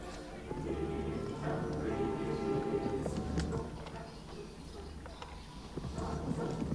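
Horses gallop in Crusader Kings 2, a rolling, rhythmic clatter of hooves that runs throughout over a dense layer of other game sound.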